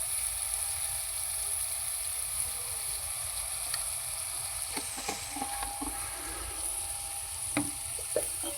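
Coriander powder and salt sizzle steadily in a hot frying pan, a constant hiss underneath, with a spoon scraping and tapping the pan in scattered strokes near the end.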